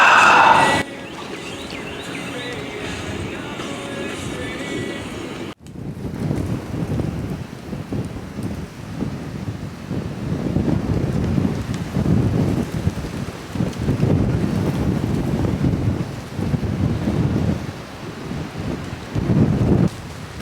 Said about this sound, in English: You guys can probably hear that wind.